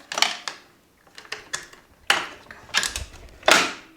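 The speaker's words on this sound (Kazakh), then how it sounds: "Осы отвертканың көмегімен сол жақта тұрған инені біз босатып алып тастаймыз" A small screwdriver works the needle screw of an overlock sewing machine, giving sharp metallic clicks and scrapes in uneven bursts, close and fairly loud, with quiet gaps between.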